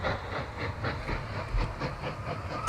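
A train rolls along the track in the railway-building game Mashinky, giving a steady rumble with a faint rhythmic clickety-clack and light hiss, continuous at moderate loudness with no voices.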